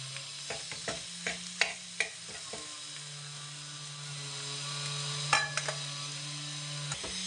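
Mashed potato filling with turmeric and spices stir-fried in a pan for parathas, the spoon scraping in a series of clicks and scrapes over a steady low sizzle, close and moderately loud, with no talking.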